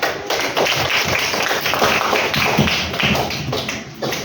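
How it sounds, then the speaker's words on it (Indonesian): A classroom group claps hands together in a dense, continuous patter of many claps that swells and eases over a few seconds, with no talking. "Oke, tepuk tangan."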